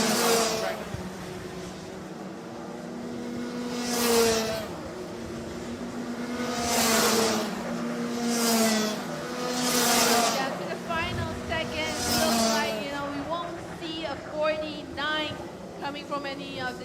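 Senior Rotax Max racing karts lap a track during official practice at the Rotax Max Challenge Asia Festival, their engines buzzing and passing in several sweeping surges, with a commentator talking over them.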